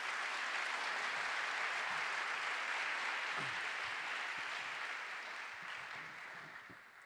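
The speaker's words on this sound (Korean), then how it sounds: "우리 큰 박수로 환영합시다." Sustained audience applause at a theological memorial lecture, broad and steady clapping from a seated crowd that fills the room evenly for several seconds before gradually fading toward the end.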